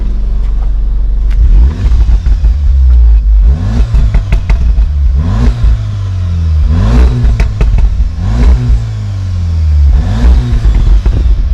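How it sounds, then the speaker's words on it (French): A 310 hp 7R car with its exhaust set to race mode revs repeatedly, each throttle blip rising and falling over a steady loud idle, with crackling exhaust clatter between bursts. "petit coup de gaz là pour l'échappement"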